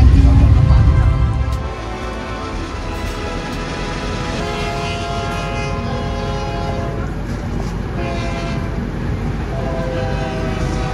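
A Vande Bharat Express train rumbles past close by, loud at first and then settling into a sustained roar, with a long tonal horn running throughout.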